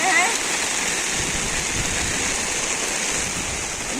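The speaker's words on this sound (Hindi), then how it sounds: "देखिए मुंबई में इतना बारिश हो रही है" Heavy rain pours down in Mumbai, a dense, steady hiss of drops hitting the ground and surfaces nearby, with a brief voice at the very start.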